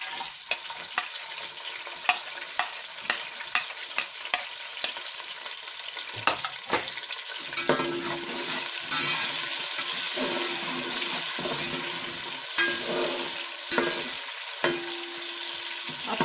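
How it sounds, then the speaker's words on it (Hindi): Onions and cumin fry with a loud sizzle while a spoon stirs and taps the pan at regular intervals, the hiss swelling midway as the onions go in, close and without talk. "अब हमारे जीरे को थोड़ी देर हो चुकी है। अब हम प्याज इसमें डालेंगे।"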